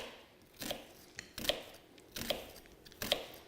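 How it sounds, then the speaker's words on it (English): A knife slices onion finely for guacamole in four evenly spaced, crisp cuts, each a short close tap on a cutting board, fairly quiet with no talking. "so you just do really little teeny slices on your onion like this"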